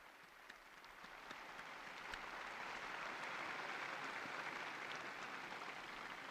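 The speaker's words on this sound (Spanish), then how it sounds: "Un aplauso para el nuevo beato." A large outdoor crowd in St Peter's Square applauds the new blessed, a faint, distant wash of clapping that swells gradually and holds evenly throughout.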